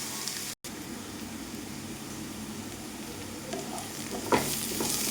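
Sliced onions sauté for an egg curry, sizzling steadily in a pan with occasional stirring scrapes and a brief gap near the start, close and alone.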